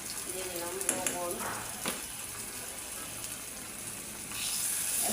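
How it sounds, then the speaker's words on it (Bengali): Ground turmeric, coriander and salt fry in hot oil for a prawn curry, giving a soft, steady sizzle with scraping stirs, while a voice is briefly heard early on. "এখন মশলাটা একটু কষাই নিই"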